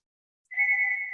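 A mobile phone rings with a steady electronic tone that starts suddenly after a moment of silence and continues clearly and loudly on its own.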